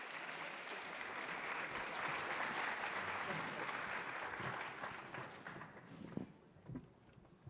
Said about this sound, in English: give all of our panelists and our moderator a warm round of applause